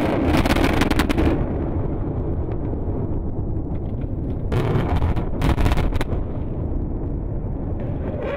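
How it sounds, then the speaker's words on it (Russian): Blasting explosion in the Yubileyny open-pit diamond mine, heard as a broad low rumble with sharp bursts near the start and again midway, steady and sustained, loud and distant-sounding with wind-like noise, no voices. "и получается и взрыв"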